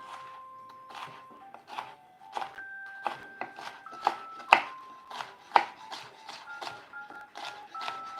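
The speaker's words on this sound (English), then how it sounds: "julienne peps. Chopping up for our sauce" A knife julienning peppers on a board for a sauce, with a steady run of quick, close chopping taps and occasional sharper knocks, no one talking.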